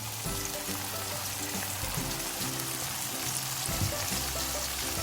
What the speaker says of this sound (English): Next, we're going to add our tatashe mix.